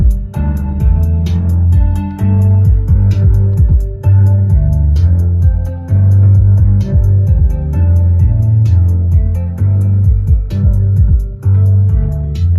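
No-copyright music blasting through a newly fitted stereo with two 10-inch subwoofers in a cammed Chevrolet Silverado, loud, steady and heavy on deep bass, with a repeating beat throughout and no talking.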